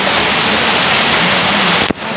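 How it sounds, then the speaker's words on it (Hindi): Steady rain falls in the hills of Arang Kel, Azad Kashmir, a loud, even wash of hiss that holds constant before cutting off abruptly near the end, with no one speaking. "कितनी प्यारी बारिश हो रही है, कितना प्यारा मौसम है"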